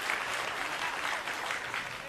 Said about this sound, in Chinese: 我也要在这里借用大家的掌声